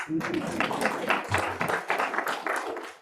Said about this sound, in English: I think he can get a round of applause.